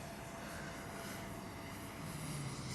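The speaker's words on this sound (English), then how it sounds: "arrived in Washington just a couple of minutes ago, where it's taxied to a halt" A military aircraft carrying a coffin taxis to a halt at an airport in Washington, heard as a steady, distant engine roar with a faint whine and no talking.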